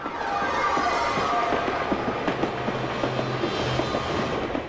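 A train rumbles steadily along the tracks, with a continuous broad roar and faint rhythmic clacking, fairly close and loud, with no one speaking.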